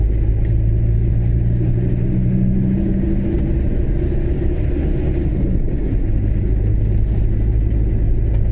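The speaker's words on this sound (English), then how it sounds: "Busted exhaust." A car with a busted exhaust drives on a motorway, giving a steady low, droning rumble that holds loud and close throughout with no voices.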